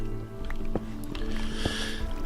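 Flowing water in Minecraft, a steady, faint rushing wash that continues without a break under a low background hum.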